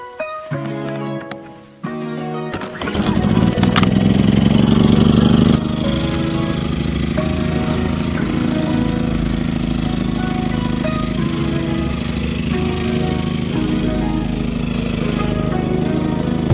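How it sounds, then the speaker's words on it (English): A portable generator engine sputters briefly, then catches and runs with a loud, steady, rough chugging drone close by, settling into an even idle for the rest. "I got the generator running."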